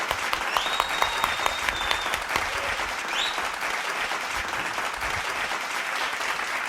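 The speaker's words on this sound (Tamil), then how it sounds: "கைத்தட்டுங்க சார்" Applause from a church congregation fills the space, a sustained wash of clapping at moderate distance with a few brief tonal sounds over it.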